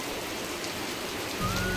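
Heavy rain pours steadily over a rural home and open field during a holiday downpour, a dense, close hiss that swells slightly louder and deeper near the end.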